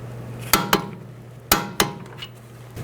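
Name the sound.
torque wrench tightening strut nut on Honda CR-V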